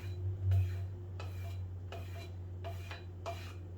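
An axe blade is honed with a stone to knock the burr off each side: about six steady, even rasping strokes, close and fairly quiet, over a low constant hum.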